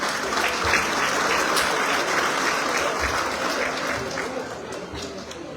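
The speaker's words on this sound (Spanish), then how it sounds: "recibimos con aplausos a la gente de San Vicente." An audience at an awards ceremony honoring Indigenous and Afro-Mexican communities applauds steadily, a dense sustained wash of clapping from a large crowd, with a few voices mixed in.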